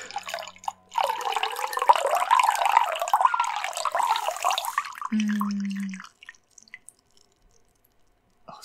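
Liquid splashing and trickling in a Resident Evil VII VR game scene as a character pees, a steady close stream for several seconds ending abruptly, followed by a short tone.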